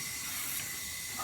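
A car AC vent cleaner spray can hisses continuously into the air duct, a loud, steady, close hiss lasting the whole moment without pause.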